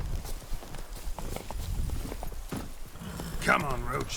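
Geralt's horse Roach in The Witcher 3: Blood and Wine, hooves clip-clopping at a steady walking pace, with a short whinny-like burst near the end and game sounds around it.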